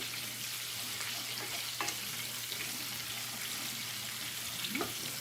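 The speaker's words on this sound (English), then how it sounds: "My chicken's frying up nicely in the foreground." Steady frying sizzle of chicken in a skillet, a constant crackling hiss with occasional faint clinks, no talking.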